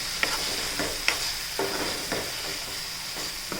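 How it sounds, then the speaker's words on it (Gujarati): Pigeon peas and garlic are mixed in a hot frying pan, with a constant sizzle overlaid by regular, rhythmic scrapes of a spatula against the pan, close and fairly loud, with no talking. "તુવેરના દાણા અને લસણ આપણે નાખી દીધું છે અને મિક્સ કરી દઈએ આપણે હવે."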